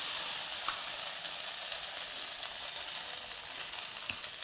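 Okra frying in a pan gives off a steady, bright sizzle with a few faint scrapes as it is stirred. No one talks.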